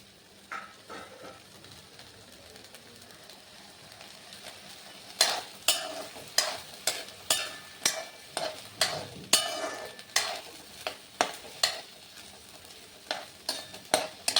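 Pigeon pea seeds are dry roasted in a pan for amti. A quiet stretch gives way to a steady run of rhythmic scraping stirs, with seeds crackling and rattling against the metal.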